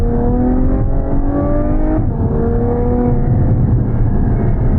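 A Ferrari F12 Berlinetta's V12 engine revs loud and close, its harmonic exhaust note holding steady then dipping and climbing again without pause.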